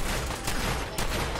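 Bursts of gunfire in the video game Fallout 4 rattle out in rapid, overlapping volleys with two sharper peaks, loud and close, no voices over them.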